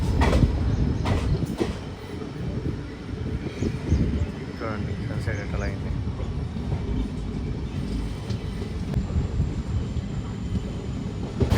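The Vasco da Gama Express rumbles steadily along the rails from inside a carriage, with low continuous wheel noise and occasional clacks while someone talks over it.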